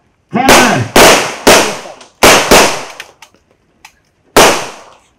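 Special-effect firing on a TV serial shooting set: a rapid series of sharp, loud cracking bangs like firecrackers, about eight bursts over five seconds, the first several close together, then scattered smaller pops and one last bang after a pause.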